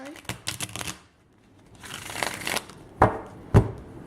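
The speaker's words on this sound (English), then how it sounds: "I'm gonna shuffle one more time" Tarot cards are shuffled by hand in quick riffling bursts, close up, followed by two sharp taps as the deck is squared, with brief talking mixed in.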